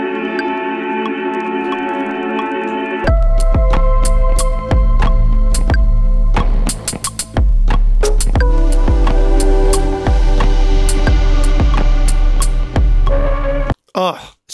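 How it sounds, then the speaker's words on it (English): Drum beat played from the Native Instruments Playbox sampler, with punchy kicks and crisp hits in a repeating groove over a droning tonal layer, loud and close with a sudden stop near the end. "what you just heard was me playing drums from Playbox"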